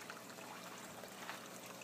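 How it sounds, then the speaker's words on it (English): A water pump in a small backyard aquaponics system keeps up a steady, faint trickle and pour of water, a continuous low wash with no talking. "the water pump"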